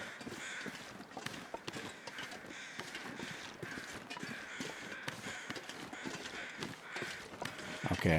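Several crows caw repeatedly at a moderate distance over a quiet outdoor ambience in the cold coastal wilderness of the video game The Long Dark.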